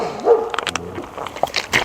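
Dogs in a backyard give a few short barks and yips mixed with whimpering, close by and irregular, over faint outdoor background.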